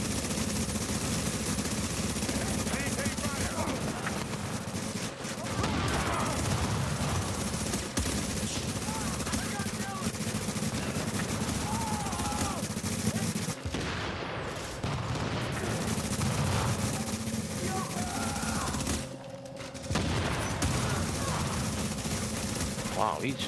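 Video game gunfire in The Division: sustained automatic bursts and rapid shots fill the clip, with short pauses, and a voice talks intermittently over the shooting.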